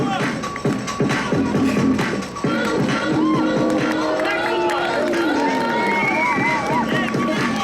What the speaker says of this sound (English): Make some noise. Everybody clap.